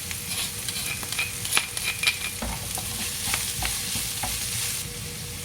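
Vegetables with oncom and salted fish stir-fry in a hot pan, a steady sizzle broken by repeated scraping and clacking of the spatula, close and alone.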